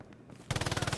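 A machine gun fires in the World War II shooter game Hell Let Loose, a loud rapid burst of evenly spaced rounds that starts abruptly halfway through and runs to the end, with no voices.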